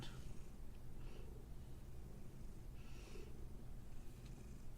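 A pet cat named Batty purrs softly and steadily up close, a low continuous rumble with faint breathy pulses, quiet and alone.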